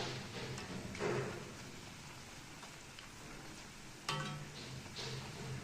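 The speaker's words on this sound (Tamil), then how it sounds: "பொரிஞ்சு வருது." Leftover rice snack balls frying in hot oil, a steady close crackling sizzle with brief louder bursts of spattering.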